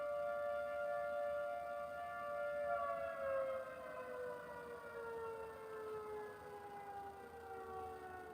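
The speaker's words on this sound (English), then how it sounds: "The air raid siren goes off, and now they know to gather together and meet at the station." A distant air raid siren sounds to call out a local volunteer fire department, one long wailing tone that slowly falls in pitch, faint but steady over a quiet outdoor background.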